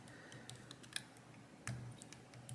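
Small metallic clicks come from pins in an Iseo Perfecta lock being picked, a few faint sharp ticks scattered irregularly over quiet background.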